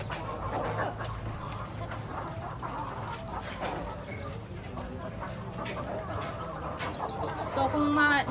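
Many laying hens in layer cages cluck and squawk together at close range, a busy overlapping chorus with occasional louder calls.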